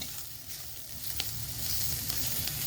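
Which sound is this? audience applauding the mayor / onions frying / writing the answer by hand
onions frying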